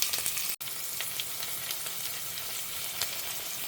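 Ginger garlic paste fries in a pan with a steady, close sizzle and occasional stirring. There is one brief dropout near the start, and no voices.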